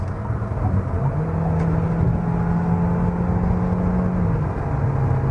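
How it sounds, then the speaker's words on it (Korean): A SsangYong Torres with a downsized turbo engine accelerates, heard from the cabin as a steady, close engine drone whose low tone climbs slightly and holds, with road noise underneath. "한번 가속을 한번 해볼 텐데요"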